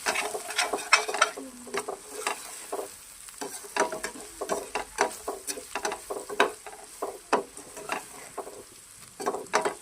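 Masala for fish fry sizzles in a pan while it is stirred, giving quiet, irregular scraping and crackling bursts close by with no talking.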